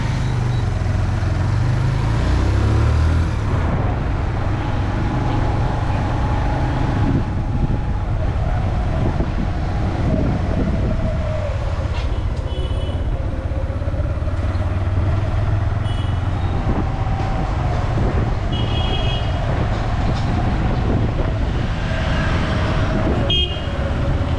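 A rented motorbike ridden around Da Nang, Vietnam, with a steady engine drone and heavy wind buffeting the microphone throughout, plus a few faint horn-like tones in the background.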